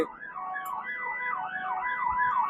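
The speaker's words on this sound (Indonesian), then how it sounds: "Oh, sepertinya ada ambulan." A wailing ambulance siren rises and falls rapidly and repeatedly, fairly loud and close amid the low rumble of heavily jammed traffic on the Cipali toll road near Brebes, Indonesia.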